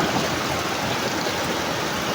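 Heavy rain pouring steadily, a dense continuous rush of water that stays loud and close throughout, with no talk.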